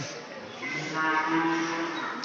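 Cattle lowing at the Kaliyaperumal temple in Ariyalur, a drawn-out moo that swells in the middle and holds before fading, sounding fairly close over a busy outdoor background.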